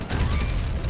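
Gunfire in the video game Sly 3, a dense burst of booming shots packed closely together, loud and continuous across the whole moment with no break and no talking.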